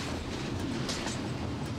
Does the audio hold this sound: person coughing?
no